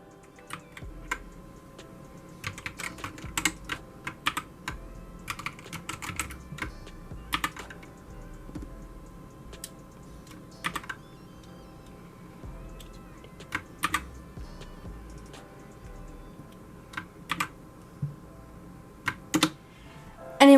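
Typing on a GK61 60% mechanical keyboard produces sharp, close key clacks in irregular bursts and runs for about twenty seconds, with no voices.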